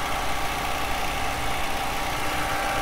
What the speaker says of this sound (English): As long as the needle is steady, keep the engine running.